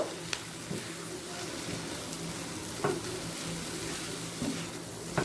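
Spices and sugar being stir-fried in a pan for a Bengali bhetki fish-bone chorchori, with a steady low sizzle and a few soft scraping stirs.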